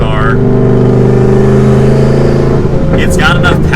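Turbocharged manual Ford Mustang GT engine held at high RPM, a loud steady drone with layered harmonics, with someone talking over it throughout.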